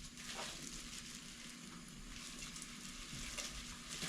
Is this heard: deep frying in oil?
yes